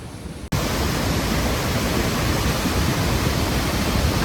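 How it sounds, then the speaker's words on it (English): A large waterfall at Triberg in the Black Forest roars loudly and steadily after a brief quieter moment at the start, a dense, unbroken rush of crashing water up close. "You can see it's quite a big waterfall behind me here."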